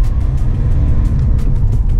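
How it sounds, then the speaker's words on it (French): Steady engine rumble and road noise from inside a moving Volkswagen Golf V, loud and continuous with light rattling over the surface. "La voiture roule très bien."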